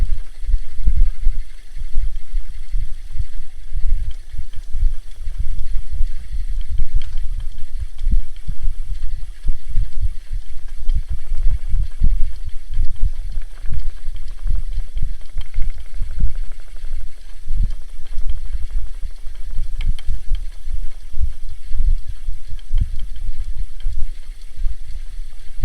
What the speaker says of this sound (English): I love the sound my spinning wheel makes as I spin.